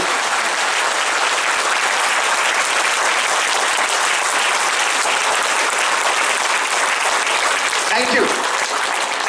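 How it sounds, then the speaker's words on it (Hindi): Audience in a hall at an Ajmal Foundation event giving a loud, continuous round of applause that stays dense and steady for the whole stretch. "जबरदस्त ताली चाहिए"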